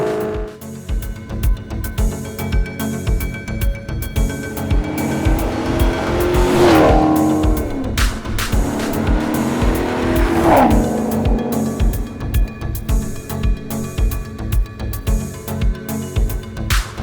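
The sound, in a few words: Maserati GranTurismo engine revving in sport mode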